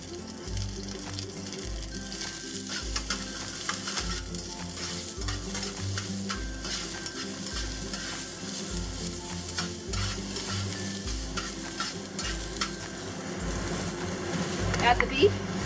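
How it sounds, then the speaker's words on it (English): Onions and beef stir-frying in hot oil in a pan over medium-high heat, a steady sizzle with repeated rhythmic scraping and stirring strokes, close and continuous, with a voice speaking over it. "the first thing we're gonna do is cook the onions and the beef"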